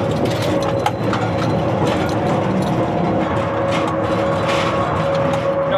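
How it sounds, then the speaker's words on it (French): A mine ventilation fan drones loudly and steadily, heard from a small train running through a narrow mine tunnel, with a constant hum and an even mechanical rattle underneath. "maintenant un peu de bruit à cause du ventilateur"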